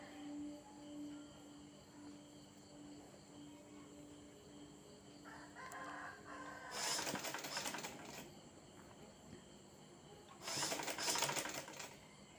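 A sewing machine stitching pleats into fabric, quiet at first, then two loud bursts of rapid needle chatter with a softer whir between them, fairly close.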